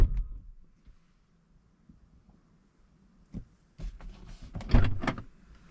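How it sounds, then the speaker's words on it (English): The door of a 2023 Ford Mustang Mach-E GT shuts from inside the cabin, a rustling movement followed by a solid, close thud after a few quiet seconds. "let's go and shut the door"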